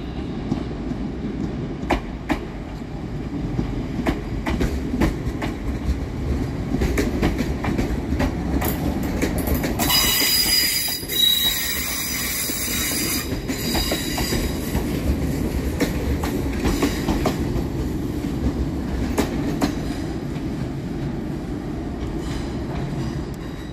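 A West Midlands Railway electric train runs through Birmingham New Street station with a steady loud rumble, rhythmic clickety-clack, and a brief sharp wheel squeal partway through.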